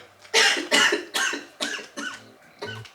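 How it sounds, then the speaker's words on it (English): A woman coughs in a quick series of about six harsh bursts, close and fairly loud, with no talking. "She coughed."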